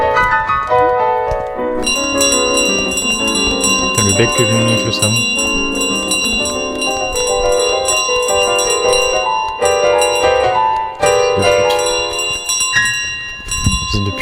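Loud, continuous metallic bell ringing in Untitled Goose Game, rapid repeated strikes sustained throughout with a few brief gaps, while someone talks over it.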